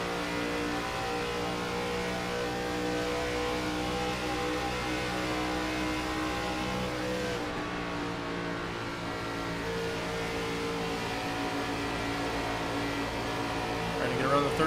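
A race car engine droning steadily at high throttle in the iRacing video game, an ARCA Series race at California Speedway, holding a constant buzzing note with a brief dip midway.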